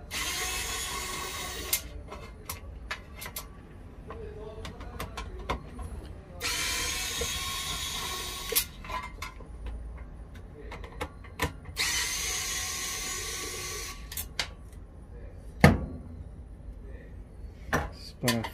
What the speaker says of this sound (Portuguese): Parafusadeira.